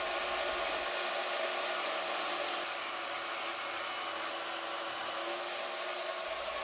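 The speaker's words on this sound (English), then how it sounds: "I'm using my custom metal bandsaw setup. It's built around a cheap Harbor Freight portable bandsaw" A cheap Harbor Freight portable metal bandsaw, mounted vertically in a custom setup, cuts steel stock with a steady, even hiss and hum, close and continuous throughout with no talk.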